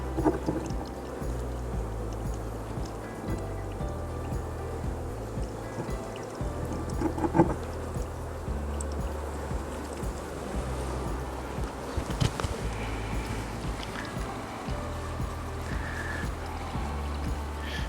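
Honeybees in an open hive during a week-one inspection keep up a continuous close buzzing hum, with occasional handling clicks and knocks of frames.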